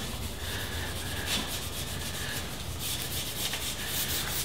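Wire wool rubbing beeswax furniture polish across a wooden panel, a steady close scratchy scrubbing that runs continuously with small surges in rhythm, no voices.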